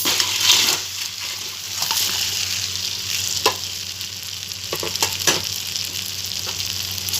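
Bhetki fish bones fry in a spice masala, a loud, steady hiss of sizzling oil broken by occasional utensil taps and stirring scrapes, close up and continuous.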